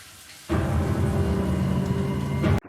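Steady broadband hiss of a running shower in a movie scene, starting abruptly and cutting off just as suddenly, dense and close, with no voices over it.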